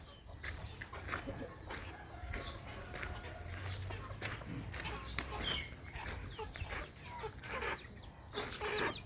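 Native chickens, hens with chicks, clucking softly among a busy farmyard bustle, with scattered peeps, rustling and shuffling close by for several seconds and no talk.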